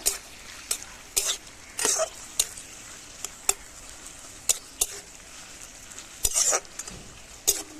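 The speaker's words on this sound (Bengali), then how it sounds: "পেঁয়াজটাকে একটু লাল লাল করে ভেজে নেব।" Chopped onions fry in a pan for a lentil and Malabar spinach dish, a faint steady sizzle broken by repeated sharp scrapes and clacks of a spatula stirring against the metal.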